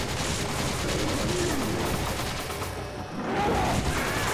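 Rapid, dense gunfire in the video game Resident Evil 5, a sustained loud barrage of shots that dips briefly and then resumes.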